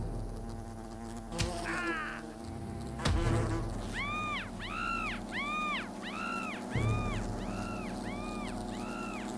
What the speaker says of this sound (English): The big wasps.